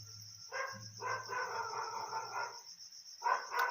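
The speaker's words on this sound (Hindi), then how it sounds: "काफ़ी लंबा समय हो चुका है। इस वजह से कुत्ते रो रहे हैं," Dogs howl in long drawn-out wails, several overlapping cries rising and fading, with a lower steady tone underneath and a short final howl after a pause, heard at moderate distance outdoors.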